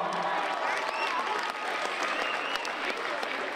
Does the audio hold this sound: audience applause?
yes